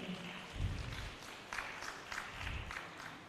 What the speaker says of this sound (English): Please let's give another round of applause to them.